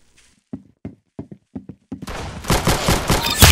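Video game gunfire from Arsenal: a string of sharp, separate shots, then a dense burst of louder, rapid firing with noisy blasts that runs to the end.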